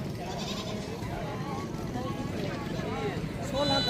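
Goats bleat repeatedly at a busy goat market in Mundra, their calls overlapping with constant crowd chatter and people talking nearby.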